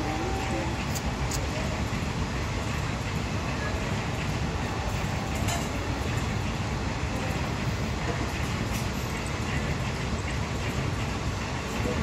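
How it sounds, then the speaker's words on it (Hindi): Parcel express train passing through Ayodhya Dham Junction, a steady loud rumble of wagons on rails lasting throughout, with faint voices in the background. "पार्सल एक्सप्रेस है"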